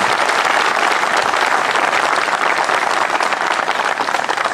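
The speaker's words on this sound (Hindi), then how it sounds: "उनके लिए जोरदार तालियां हो जाए एक बार" At a CRPF Day celebration held by a battalion, a large audience breaks into loud, continuous applause for the stage performers, with dense crowd clapping that stays strong and unbroken before tapering slightly near the end.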